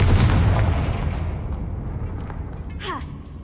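A Confringo spell detonates in Hogwarts Legacy, a loud booming blast right at the start that rolls off into a long, fading rumble with faint crackling debris and a brief whooshing sweep near the end.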